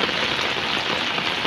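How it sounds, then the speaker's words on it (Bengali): Heavy rain pounds a flat rooftop already covered in standing water, producing a dense, steady roar of close, loud splashing with no pauses. "দেখুন প্রচণ্ড বৃষ্টি করতেছে, আমরা ছাদের মধ্যে আসছি"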